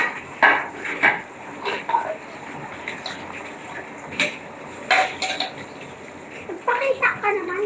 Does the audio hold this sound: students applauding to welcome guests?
no